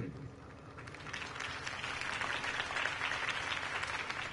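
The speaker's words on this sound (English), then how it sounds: "could have heard that applause" Crowd applause in a Batman video game, building from a quiet rustle into steady, dense clapping that fills the space, with faint murmuring beneath.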